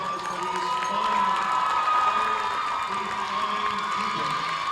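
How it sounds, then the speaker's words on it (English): A gym crowd at a girls high school basketball game cheers and applauds the seniors, a steady roar of whoops and claps with shouting children mixed in over a constant tonal hum. "Let's have a warm and genuine round of applause for these fine"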